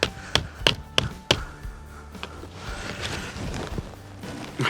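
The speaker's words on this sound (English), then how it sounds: "You might want to just tap it down with something. I'm going to use a rock" A rock taps a metal part down on the arm of a GPZ 7000 metal detector: four or five sharp, close knocks in the first second and a half, then quieter handling noise.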